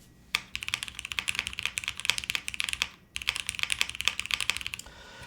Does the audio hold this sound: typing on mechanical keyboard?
yes